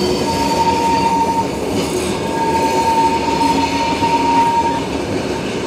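Flåm Railway train in Norway rolling past, with a loud rumble of wheels on track and a sustained high metallic squeal from the wheels over most of the stretch.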